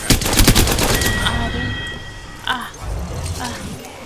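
Gunfire in the Apex Legends video game: a rapid burst of automatic shots at the start, then sparser single cracks and a few ringing impacts, loud and close.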